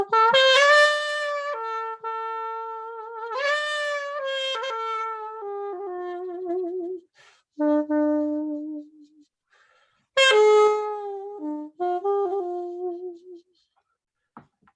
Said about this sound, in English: This is the Zaphoon. It's going to be my little buddy, and it sounds like this.